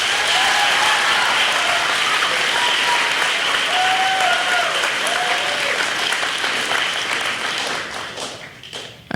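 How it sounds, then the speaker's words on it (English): Sustained applause from an audience at a middle school end-of-year ceremony, a dense steady clapping that fills the hall and tapers off toward the end. "Can we have one final round of applause for all three?"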